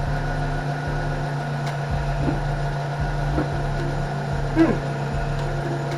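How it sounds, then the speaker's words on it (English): A Suzuki Bandit 600 motorcycle engine idles close by with a steady, low, rumbling hum and slight periodic pulsing, heard alone with no voices. "I shouldn't be turning this over if I don't know it's in neutral."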